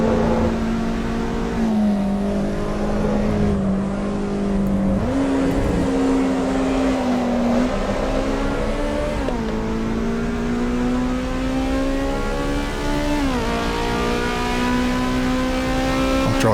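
Ferrari engine in the AC Evo VR racing game, droning steadily and loudly with the pitch climbing and dropping through gear changes over a continuous whir.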